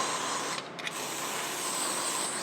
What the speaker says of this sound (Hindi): और स्प्रे, होल्ड स्प्रे।